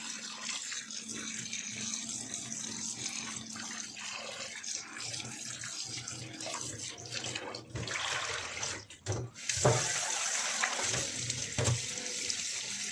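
Fish rubbed with a little salt is washed under a running kitchen tap, a continuous hiss of flowing water with splashes and handling noises that grow louder near the end.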